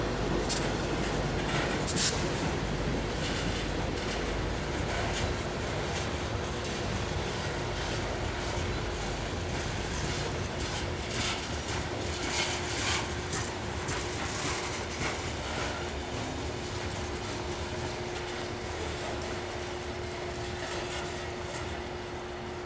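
Freight train with a caboose passing by, a steady loud rumble of rolling cars with faint rail clatter, continuous throughout with no talk.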